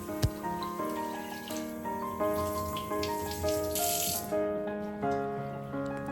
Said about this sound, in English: Our first step involves thoroughly washing the dal a few times right in the saucepan